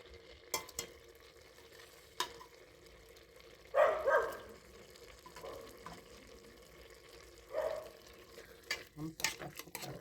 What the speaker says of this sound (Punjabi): ਹੁਣ ਇਹਦੇ ਚ ਆਪਾਂ ਪਾਵਾਂਗੇ ਤੜਕਾ